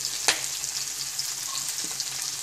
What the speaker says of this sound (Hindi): देखिए, capsicum, onion, green chillies, garlic अच्छे से फाइन, देखिए अच्छे से फ्राई हो गए कैप्सिकम